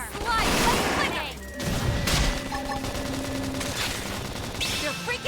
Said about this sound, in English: Topple them with gunfire!